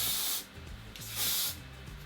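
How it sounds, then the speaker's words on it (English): Boost It hairspray sprays onto hair in two short bursts, a close, bright aerosol hiss with a brief quiet gap between them. "then I need the Boost It hairspray because this is one holding gem"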